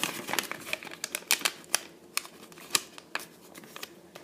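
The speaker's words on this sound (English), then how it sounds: "We're going to make a diagonal crease" Origami paper is folded and creased by hand for a rectangular gift box, giving a close series of crisp, dry crackles and sharp taps in an irregular rhythm, with no talking.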